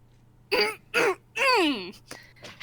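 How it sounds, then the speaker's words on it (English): A person clears their throat loudly and deliberately in three forceful bursts, close and distinct against a quiet room with a low hum. "Clear my throat extra loud to get his attention."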